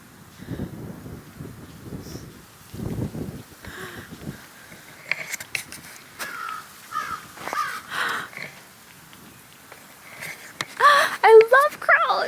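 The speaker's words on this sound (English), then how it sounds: "I love crows." Several crows caw in short, scattered bursts outdoors at a wetland and prairie state park, with light wind noise and a person talking at moderate distance between and over the calls.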